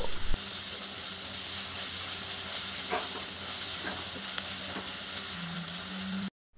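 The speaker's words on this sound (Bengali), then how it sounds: "এই আদা রসুন বাটাগুলোকে কিছুক্ষণ ভেজে নেব" Ginger-garlic paste frying in oil for a rohu fish and tomato curry, a continuous close sizzle with brief stirring sounds, cutting off abruptly at the end.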